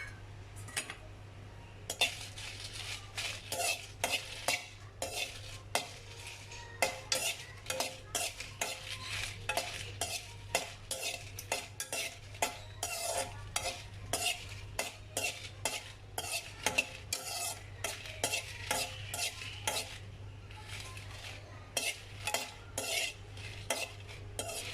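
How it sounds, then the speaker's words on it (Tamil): About ten dried red chillies roast in a kadai, a spatula scraping and clinking against the metal in a busy, uneven rhythm over a faint steady hum, close and fairly quiet, with no voices. "அதில் நான் ஒரு 10 வரமிளகாயை இப்போ வறுத்து எடுத்துக்க போகிறேன்."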